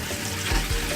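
Marinara sauce with meatballs bubbling and reducing in a pan, a close, continuous sizzling hiss with a couple of soft low bursts, no talking.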